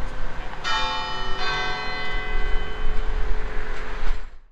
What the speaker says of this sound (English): I hit record just in time to catch the bells ringing as we were leaving.